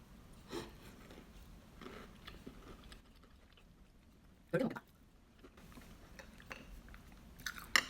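Someone chews a homemade gluten-free cookie up close, with quiet mouth sounds broken by a few sharper crunchy bites at intervals in a hushed room.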